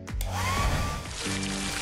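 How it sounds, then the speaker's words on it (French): A hair dryer blows steadily at close range, a loud continuous whooshing roar with a slight whine running throughout. "Avec ce sèche-cheveux, on peut hyper facilement se coiffer."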